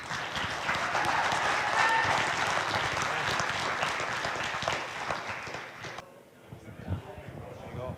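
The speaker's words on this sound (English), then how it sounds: "So can we give him a round of applause?" A convention audience applauds a keynote speaker in a long, dense round of clapping that holds steady for several seconds and then tapers off, with a voice briefly heard as it fades.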